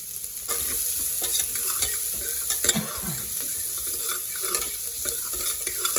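Mustard seeds, curry leaves, dried red chillies, onion and garlic crackle and sizzle in hot oil, loud and steady, with bursts of stirring scrapes from a spoon in the pan.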